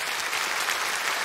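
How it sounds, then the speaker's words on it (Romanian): Studio audience applause, a brief, steady burst of many hands clapping at once, even and moderately loud with no speech over it. "Aplauze."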